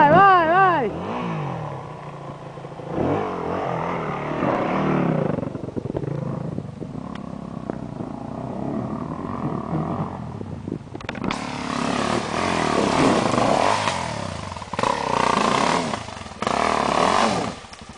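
A Suzuki DR-Z400 motorcycle engine revs and pulls away nearby, a rough single-cylinder roar rising and falling over several seconds while someone shouts instructions in the background.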